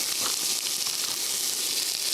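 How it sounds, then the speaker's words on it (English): Ground venison mixed with brisket and pork fatback sizzles steadily in a hot pan, a close, continuous frying hiss with no talking. "Listen to that sizzle."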